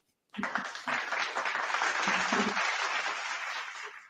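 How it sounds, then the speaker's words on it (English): An audience applauds two guests being introduced. The clapping starts abruptly, then holds as dense, steady applause, with a few faint voices and cheers mixed in before it tapers at the end. "Jay and Ernestine Morrison, give them a round of applause."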